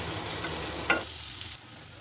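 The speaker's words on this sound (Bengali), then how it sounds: "এখন পেঁয়াজ আর মরিচটা আমি ভেজে নিতেছি।" Onion and green chili frying in mustard oil in a pan, a steady close hiss of sizzling with a brief stir or scrape about a second in, then the sizzle drops lower and quieter.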